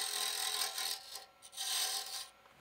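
A square tool cuts into a narrow spinning wooden snowflake ornament on a lathe, giving a steady close rasping scrape that briefly dips twice before resuming.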